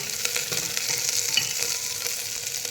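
Potato slices sizzle in hot oil in a pan while cooking for dal khichdi, a steady close crackle with faint stirring scrapes and no speech.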